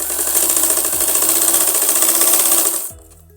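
Sewing machine running a straight seam on belt-style salwar fabric, a loud, steady, fast mechanical whir that continues without a break and then stops abruptly just before the end.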